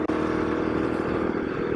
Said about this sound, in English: The bike has good power in the mid revs.